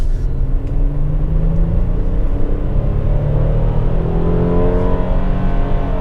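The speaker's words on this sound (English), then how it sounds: "Let's see how the V6 gets us up a steep hill." Hyundai Palisade with a naturally aspirated V6, 8-speed automatic and all-wheel drive climbing a steep hill, its engine a loud, steady close-up drone that rises smoothly in pitch as it revs under acceleration.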